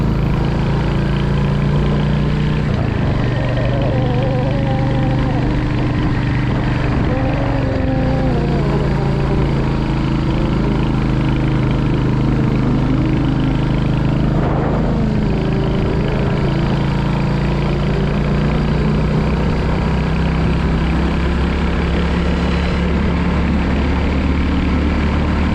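A motorbike engine runs steadily on a hill road, a loud, continuous low drone with a constant hum and faint wind rumble throughout.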